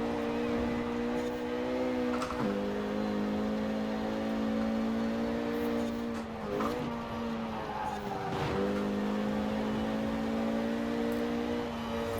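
A Renault Megane R26.R in the racing video game Forza Horizon 4, its engine droning steadily at high revs, with a few quick dips and recoveries at gear changes and no talking.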